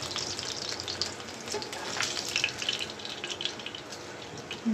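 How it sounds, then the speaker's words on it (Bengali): Pieces of catla fish frying in a hot wok, a steady hiss of sizzling oil with crackles and spits, close and fairly loud. "গরম হয়ে গেছে, কড়াইয়ের মধ্যে দিয়ে রাখছি"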